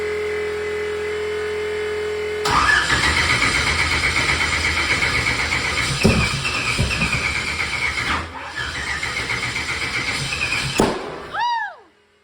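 Engine swapped into a car from a different Audi engine, cranking and trying to start on a wrong firing order: a loud, rough, uneven churning that surges and stumbles for about nine seconds, then cuts out with a few squeaky chirps.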